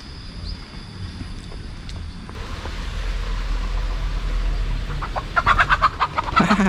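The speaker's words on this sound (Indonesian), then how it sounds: "Ayam." Chickens clucking outdoors in a humid, warm village beneath a cliff among fruit orchards, a steady low background hum throughout, with louder, closer clucks and cackles bunching up toward the end.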